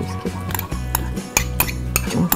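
A spoon scrapes and clinks against a pot while stirring a Johor laksa curry mixture with blended dried shrimp, giving repeated close metallic taps and scrapes in an uneven rhythm.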